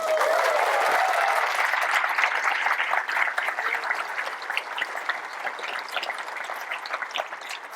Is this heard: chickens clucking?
no